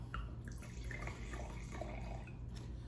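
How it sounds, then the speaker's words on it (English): Pinot Noir wine poured into a glass, a quiet close trickle with small dripping splashes running for a few seconds, no talking. "I'm going to pour this out."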